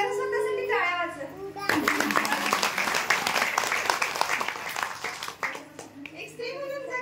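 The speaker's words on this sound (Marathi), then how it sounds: "जरा स्वतःसाठी टाळ्या वाजवा" A crowd of women bursts into sustained clapping and applause for themselves, loud and dense for several seconds, with a speaker's voice heard before and after the clapping.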